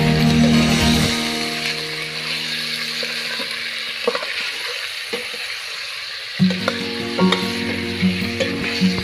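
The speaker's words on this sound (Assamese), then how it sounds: "মাংসবোৰ মই অকণমান সময় ভাজি ল'লোঁ।" Marinated duck meat with onions fries loudly in a pan, a steady close sizzle with intermittent clattering stirring strokes and scrapes, and no talk.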